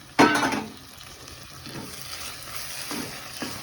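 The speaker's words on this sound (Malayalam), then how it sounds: "തിളച്ച വെള്ളം ഒഴിച്ച് തിളച്ച വെള്ളം ഒഴിച്ച് ഇങ്ങനെ നല്ലോണം മിക്സ് ചെയ്തിട്ട്" Boiling water is poured into a simmering egg curry in a pan with a sudden loud hiss and splash at the start, then fades to soft, intermittent stirring and bubbling.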